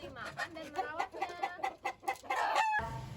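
Chickens cluck in a quick, uneven series of close, loud calls, and a rooster's crow breaks in near the end.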